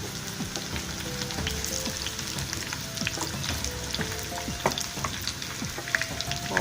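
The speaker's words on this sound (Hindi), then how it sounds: "इसके बाद ये कहते हैं ग्रीन चिलीज़ भी हम डाल देंगे इसमें, ताकि ये भी इसके साथ फ्राई हो जाए।" Onion, garlic and green chilies fry in hot mustard oil with a steady, crackling sizzle, dense small pops and a few sharper spits near the end, and no talking.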